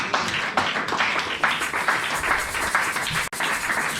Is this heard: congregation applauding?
yes